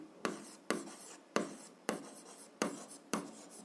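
A pen or pencil writes on paper while an algebra exercise is worked out, six short scratching strokes at an even pace, close and quiet.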